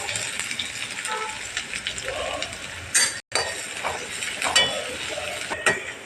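Sliced large onions frying in hot oil with cloves and star anise for an egg gravy, a steady soft sizzle with occasional clinks of a spoon stirring the pan, close and continuous, broken by a brief pause midway.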